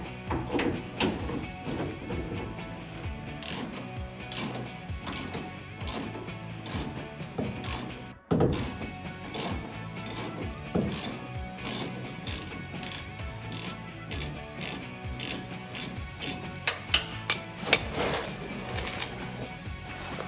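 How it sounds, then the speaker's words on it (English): Hand ratchet with an 18 mm socket working a bed bolt on a 2009-2018 RAM 1500 during a body lift install, a steady run of rapid clicking throughout, close and fairly quiet, with one brief pause. "Need to be using an 18 mil socket"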